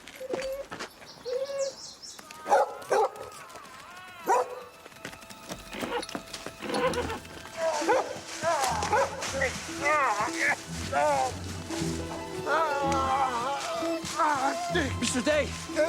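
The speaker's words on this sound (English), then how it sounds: "Stupid dog." A dog barks several times over outdoor birdsong and cooing pigeons, with people speaking over much of it; the barks are fairly close and mixed into a busy, layered scene.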